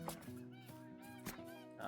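Canada geese honk a few times in theHunter: Call of the Wild, faint calls spread across a short stretch with a soft voice underneath.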